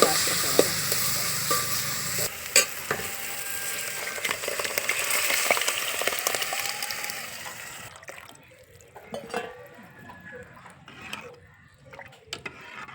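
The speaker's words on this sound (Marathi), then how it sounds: "हळद मिरची मस्त हलवून घ्यायची चांगली परतली ना" Cumin, turmeric and chili sizzling in hot oil for an amti lentil curry, with stirring scrapes for several seconds, then the sizzle quiets and a few faint clatters follow.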